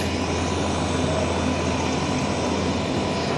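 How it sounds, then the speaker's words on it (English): Continuous loud roar of a helicopter's rotor and engine, a steady whirring drone with no talking. "today we're going to be watching the helicopter set off"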